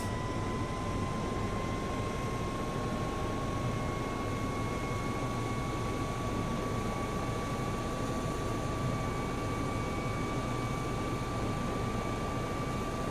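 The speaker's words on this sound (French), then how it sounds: "Là les moteurs commencent à prendre de la vitesse." Simulated EC 135 helicopter twin turbine engines spooling up in X-Plane 11, a constant loud whine with a slowly rising tone over dense broadband roar, steady throughout.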